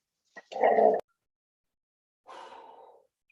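A dog close by gives a short whimpering, growl-like vocalisation, then falls silent, then lets out a second softer, drawn-out whine.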